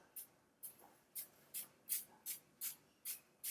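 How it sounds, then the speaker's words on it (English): Product sprayed liberally onto a thin-skin wig unit, nine short, even hissing spray bursts in a steady rhythm about every third of a second, close and fairly quiet. "I'm spraying it liberally."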